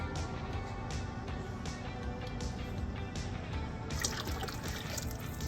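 Tomato juice is poured from a quart jar into a canning pot with carrots, a quiet continuous liquid glugging and trickling close by, with no talking over it.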